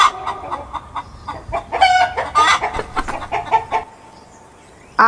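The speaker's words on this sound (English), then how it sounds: "H for hen." A hen clucks and cackles in a rapid, busy run of calls, close and fairly loud, trailing off into quiet near the end before a final short cluck.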